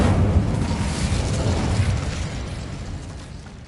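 A fiery spell blast in the Hogwarts Legacy video game on PS5, a loud rumbling burst that fills the clip and slowly fades over a few seconds, with no voices.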